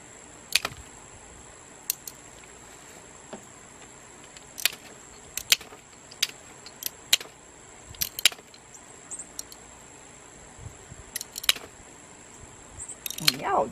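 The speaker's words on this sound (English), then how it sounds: "You take these cutters and you cut in the shape that you want." Sharp, isolated snips of hand tile cutters biting through mosaic tiles cut from a vase, about a dozen crisp clicks spaced irregularly over a quiet room background with faint talk.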